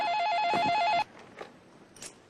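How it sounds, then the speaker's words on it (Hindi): A telephone rings with a bright warbling electronic tone for about a second, then cuts off, leaving faint room noise. "लो आ गया फोन।"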